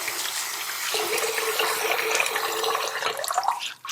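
Hot water runs steadily from a tap into a basin during head-shave preparation, a continuous close hiss and splash that shifts slightly as the flow changes.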